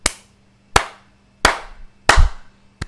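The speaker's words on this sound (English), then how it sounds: "Oh Jesus, the clap was so loud." Four sharp, loud hand claps ring out close by at a slow, even pace, each with a short resonant decay, followed by the start of a fifth.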